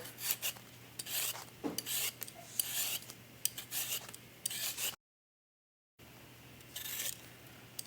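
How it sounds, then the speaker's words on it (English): Potatoes peeled by hand with a regular peeler, giving repeated close, quick rasping scrapes in uneven bursts, with a short pause partway through. "So the first step is just peeling the potatoes. I'm just using a regular hand peeler today."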